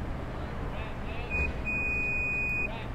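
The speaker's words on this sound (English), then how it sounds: "you're gonna hear a short and a long beep." Electronic beeps from the power liftgate of a 2019 Mazda CX-5, a short tone followed by a longer sustained tone, clear over a quiet background.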